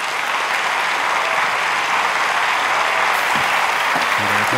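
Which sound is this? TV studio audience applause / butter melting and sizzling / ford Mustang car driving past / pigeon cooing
TV studio audience applause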